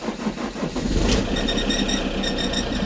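Diesel engine, left idle for several months, cranking briefly after its glow plugs are heated, then catching on the first try and settling into a loud, close, steady idle with a faint high whine.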